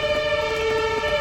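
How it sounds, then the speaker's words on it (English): A loud, close ambulance siren in Berlin holds a sustained wailing tone for a moment, with no talking over it. "The ambulances here are really loud."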